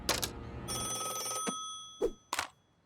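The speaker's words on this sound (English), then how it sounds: "Hotline phone?" A cartoon hotline telephone rings in a bright electronic trill lasting over half a second, preceded by a short burst and followed by two brief thumps, alone with no talk.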